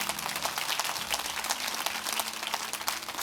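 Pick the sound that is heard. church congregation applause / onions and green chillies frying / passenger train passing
church congregation applause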